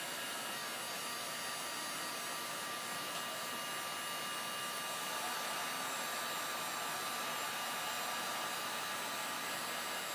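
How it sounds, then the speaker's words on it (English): A heat gun blows steadily over layered encaustic wax, fusing the top coat into the one beneath, producing a continuous, even rushing hiss like a hair dryer, fairly close and unbroken for the whole stretch. "The heat from the heat gun will melt the wax on top, and it will pull it into the wax in the bottom."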